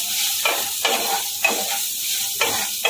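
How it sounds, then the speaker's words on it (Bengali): Potatoes being stirred with salt in a hot frying pan, a steady sizzle broken by four or five rhythmic scraping strokes of the spoon, close up with no talking. "আবারও ভালো করে নেড়ে চেড়ে নেব"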